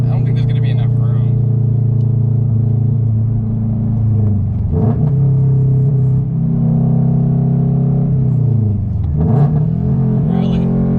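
A straight-piped Toyota GR86 rumbles loud and deep, the exhaust note dipping and swelling twice as the revs drop and climb again.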